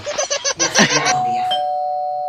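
A doorbell ringing in a home during a Holi comedy scene, a clear electronic chime that sounds loudly after some talk and laughter and then fades out as a ringing tone.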